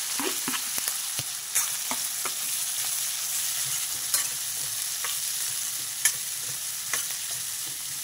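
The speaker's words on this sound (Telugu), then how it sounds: "కట్ చేసి పెట్టుకున్న ఉల్లిపాయలు వేసేస్తున్నా." Chopped onions fry in oil in a kadai, giving a continuous bright sizzle with a few clinks and scrapes of a spoon stirring, close up and steady throughout, with no talking.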